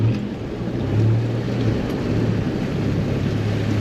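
A 4WD fords a rain-swollen creek in the Victorian High Country on the Haunted Stream Track near Swifts Creek, giving a steady low rumble of engine and churning water with a constant wash of rain, loud and close throughout.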